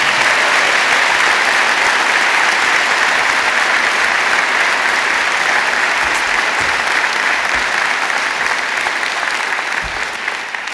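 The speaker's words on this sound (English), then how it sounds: "give a massive round of applause for yourselves" Graduates at a Dublin City University spring graduation ceremony give themselves a long, loud round of applause, a dense wash of clapping from a large crowd that fills the room steadily throughout.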